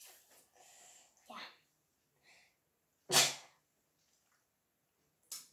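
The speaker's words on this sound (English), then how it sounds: "sneeze" A single sharp, loud sneeze bursts out close by after brief murmured talk and breathing, followed later by a shorter, softer nasal burst.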